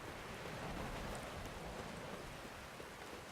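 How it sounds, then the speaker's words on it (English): Steady rain in The Witcher 3 hisses softly and evenly without pause, faint and broad like a distant downpour, with no voices. "Don't take a soothsayer to know when it's raining"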